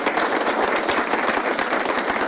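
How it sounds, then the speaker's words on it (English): Audience at a foreign policy discussion evening breaking into a round of applause, a thick, even wash of many clapping hands sustained throughout, with no voices on top. "Let's give ourselves a round of applause."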